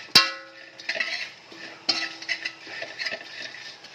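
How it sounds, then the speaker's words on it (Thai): Dried glass fish being dry-roasted and stirred in a pan: a sharp metallic clank, then repeated scraping and rattling strokes of a utensil against the pan, close and fairly loud, with no voices. "เราก็คั่วปลาให้สุกก่อน"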